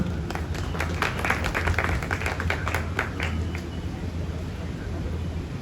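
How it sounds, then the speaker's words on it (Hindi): An audience applauds to welcome a district official at a farewell ceremony for a retiring deputy director, the clapping steady and moderately loud over a low background hum, with some voices mixed in. "जोरदार तालियों स्वागत करें साहब का"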